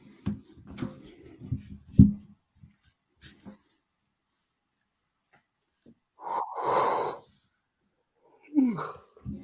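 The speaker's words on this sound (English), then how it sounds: "Man, your yawn is loud on the mic." A loud, drawn-out yawn picked up up close by a microphone, one breathy swell lasting about two seconds, after some muffled handling noise and followed by a brief snort-like exhale.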